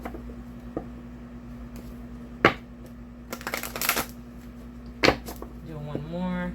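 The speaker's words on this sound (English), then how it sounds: "let's give this one a quick shuffle here." A deck of cards is shuffled by hand, giving a few sharp riffle bursts and slaps at irregular intervals over a steady hum, with a faint voice near the end.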